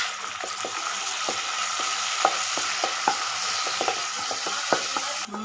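Tomatoes sizzle with onions in a hot pan as a continuous hiss, with frequent irregular clicks and taps of a spoon stirring against the pan throughout. No voices.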